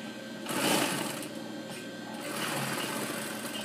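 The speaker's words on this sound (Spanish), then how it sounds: "Ambas hilos están cosiendo correctamente." A sewing machine sews a straight seam at 12 stitches per inch, giving a steady, close mechanical whir and rapid stitching chatter that swells slightly twice.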